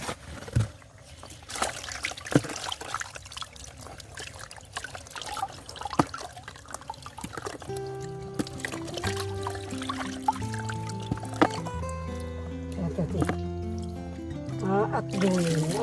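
Water trickles and splashes as food is rinsed before cutting, with intermittent dribbling and pouring in a rural mountain home, while people talk nearby and music plays in the later part.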